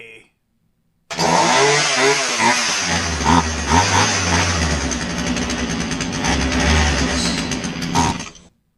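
A Poulan Wood Shark chainsaw starts after a brief silence and runs loud and close, a rough buzzing two-stroke engine that sputters and revs unevenly for several seconds before cutting off.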